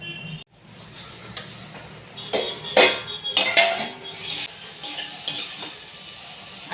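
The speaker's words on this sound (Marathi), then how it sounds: "या मसाल्यामध्ये आपण दोन ते तीन मिनटं ही भेंडी छान अशी परतून घेत आहोत" Okra being sautéed in a spicy masala in a pan, with intermittent scraping and stirring scrapes over a faint sizzle, a few louder clatters of a spatula against the pan in the middle, no talk.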